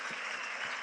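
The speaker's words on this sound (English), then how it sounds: "Listen, Do you hear the applause?" Audience applause at a talk event, a steady wash of clapping filling the short moment without voices over it.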